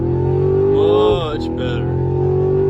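A 2022 Chevrolet Camaro SS 1LE in race mode makes a launch-control start: a loud, close engine holds high revs, climbs in pitch, then dips briefly as the car launches.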